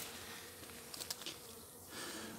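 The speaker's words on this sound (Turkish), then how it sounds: "Arılar biraz polen çekiyor" Honeybees buzz around weak hives while gathering pollen, a soft steady hum with a few closer passes of individual bees, faint and alone.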